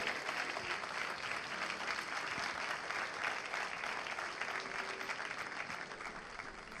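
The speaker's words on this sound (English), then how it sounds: "Another round of applause for our ladies and gentlemen from the LEU captains and sailors combined." A crowd at an event at the SGBL Athletics Center at LAU gives sustained, dense applause for a group of captains and sailors, a loud even wash of clapping throughout with no break.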